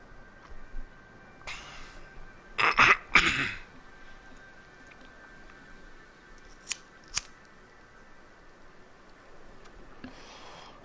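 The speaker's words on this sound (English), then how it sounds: "Excuse my coughing." A smoker's coughing and throat clearing comes in a few short, harsh bursts near the middle, close and fairly loud against a quiet room, followed by a couple of faint clicks.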